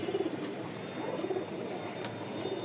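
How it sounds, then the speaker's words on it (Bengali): Hungry pigeons feeding coo softly in repeated low, throaty bursts, a few calls spread across the stretch, fairly faint against a steady background hum. "প্রতিটা কবুতরই ক্ষুধার্ত, দেখেন খাবার একটু পাইছে তাতেই ঠুকরায় খাওয়া শুরু করে দিয়েছে"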